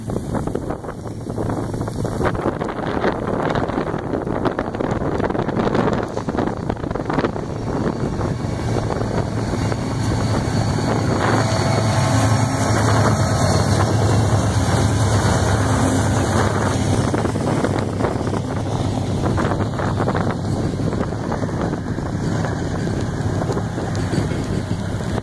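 Heavy rain pours steadily over a CSX freight train of SD40-2 and AC60CW locomotives with about 90 cars, a dense, loud, wind-buffeted roar filling the whole stretch without any voices.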